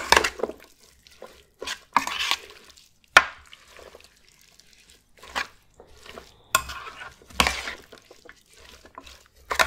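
Marinated chicken and its ingredients being stirred together in a bowl in a home kitchen, giving irregular wet scraping and sloshing bursts with pauses between strokes, close up and fairly quiet, with no talking.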